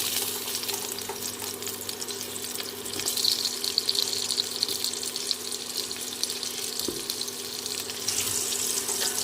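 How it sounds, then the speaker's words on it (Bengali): Potatoes go into hot oil in a wok, and a continuous hissing sizzle follows. It stays fairly quiet and even, with a faint scrape partway through and a brief swell near the end. "তেল গরম হয়ে গেছে আলুগুলো দিয়ে দিচ্ছি"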